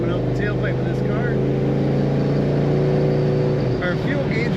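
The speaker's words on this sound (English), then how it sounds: "Nice rumble coming out the tailpipe of this car" A 1968 Oldsmobile Cutlass S convertible with its top up, idling with a deep, steady exhaust rumble from the tailpipe, close and continuous, with a brief dip in the throb near the end.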